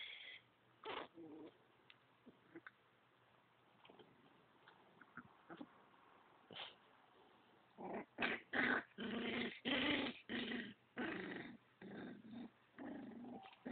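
A dog growling, heard at first as scattered low, quiet rumbles, then as a closer, more insistent run of repeated growls and snarls toward the end.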